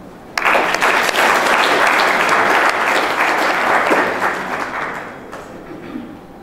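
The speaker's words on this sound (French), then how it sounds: "je vous demande de les applaudir." Audience applause at the closing ceremony of a bank's fiftieth anniversary, breaking out abruptly and sustained as dense, steady clapping from a large crowd before tapering off near the end.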